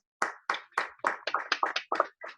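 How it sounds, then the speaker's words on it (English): Clapping for award winners at a maritime academy alumni awards event, about ten distinct claps in a steady, fairly even rhythm, close and clear with no voices. "Please give all of our award winners a huge round of applause"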